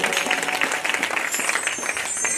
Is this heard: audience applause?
yes